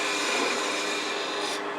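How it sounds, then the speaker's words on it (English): Steady close-up rasping of a blade cutting a chamfer on the edge of spinning wood on a lathe, a continuous dry scraping with no talk. "going to just cut a little chamfer here on the edge"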